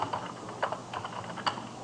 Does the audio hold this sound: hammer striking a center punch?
no